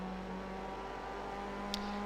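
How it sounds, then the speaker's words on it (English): Mazda Solstice race car in a racing video game accelerating at full throttle on an oval, a steady sustained engine drone with a constant tone, without breaks. "Already here you need to go on throttle."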